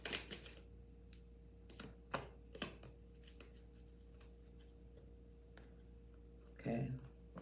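Tarot cards being shuffled and drawn during a reading: faint, scattered papery flicks and snaps at close range, with a soft rustle near the end and quiet voice talk around it.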